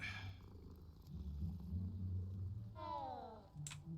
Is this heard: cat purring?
yes